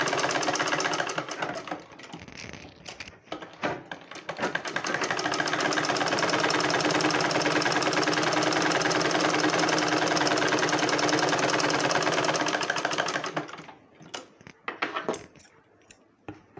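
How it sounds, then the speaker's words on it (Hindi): A sewing machine stitches blouse fabric for a 34-inch blouse, running in a loud, continuous, rapid mechanical whir for about nine seconds, with shorter stop-start bursts and handling noises before and after. "ये देखिए, अब हम यहाँ से सिलाई लगा देते हैं।"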